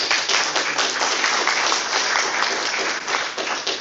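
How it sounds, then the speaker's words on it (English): Sustained audience applause at a St. Mary Chamber of Commerce business luncheon, dense steady clapping from a room full of people lasting the whole stretch with no talk over it. "Let's give them a round of applause."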